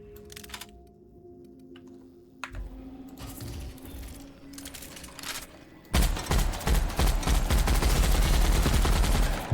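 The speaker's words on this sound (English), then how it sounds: "Double the minigun, double the pleasure." Minigun fire in The Outer Worlds video game, starting in the last few seconds as a dense, loud, continuous rapid stream of shots after quieter mechanical ticking and game noise.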